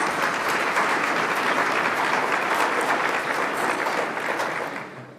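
An audience at a bar leaders recognition luncheon applauds committee members, a dense, steady roar of clapping from a full room that holds for several seconds before tapering off at the end.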